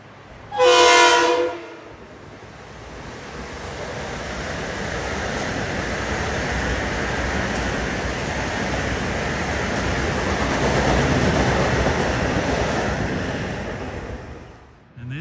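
A Metro North New Haven Line passenger train, a Stamford to Grand Central limited stop express near Old Greenwich, sounds a loud horn blast near the start, then passes with a long sustained roar of wheels and cars.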